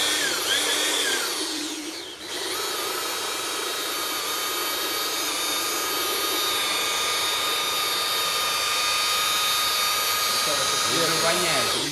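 A car polishing machine runs steadily at 2200 rpm on automotive clear coat, a loud continuous whine with a brief dip near the start, heard close and alone.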